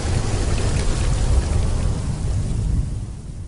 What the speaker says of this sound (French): Il regarde le gros nuage et la pluie qui s'éloigne.